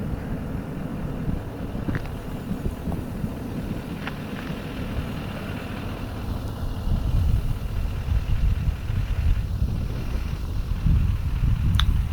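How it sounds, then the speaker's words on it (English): A diesel truck's engine rattles in a low, continuous rumble on a gravel road near Big Bend, Texas, with wind buffeting the microphone and the engine noise swelling in the second half. "Nothing but the rattle of a diesel truck out here is about all you hear."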